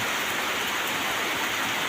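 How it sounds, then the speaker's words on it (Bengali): Heavy rain pours steadily on a workshop during bodywork on a large vehicle, a dense, even roar of drops with no voices. "তো সেই জোরে বৃষ্টি"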